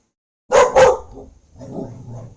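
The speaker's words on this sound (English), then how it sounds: "What the fuck are you barking at, girl?" A dog barks twice in quick succession, close and sharp, followed by softer grumbling noises in a quiet room.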